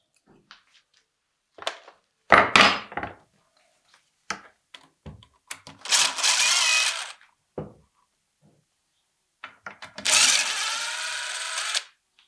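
Screws are being backed out of the black plastic clutch cover on a Stihl chainsaw with a small power driver, giving several short whirring bursts separated by quiet handling clicks, close and fairly faint.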